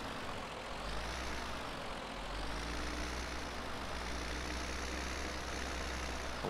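A tractor fitted with dual wheels runs in Farming Simulator 17, its steady low engine drone holding even and continuous with a slight rise and fall in pitch, with no voices.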